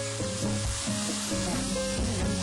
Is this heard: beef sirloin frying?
yes